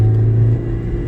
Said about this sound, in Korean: 지금 엔진 소리 들리죠? 엘린서 엔진 소리.